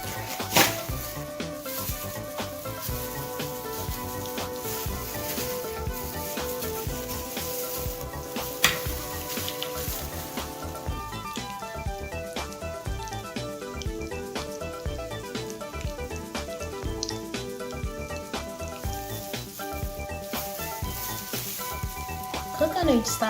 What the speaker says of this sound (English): Cook on each side for about 2 to 3 minutes, and then you can turn them over.